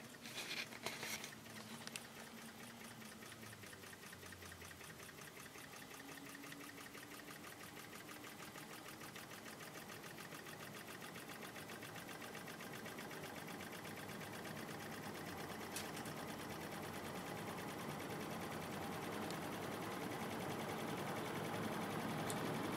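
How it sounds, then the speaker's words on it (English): A quiet appliance fan spins up on its low setting with the compressor not yet running, giving a steady, soft whirring hum that builds slightly in level and continues unbroken throughout. "Fan is starting."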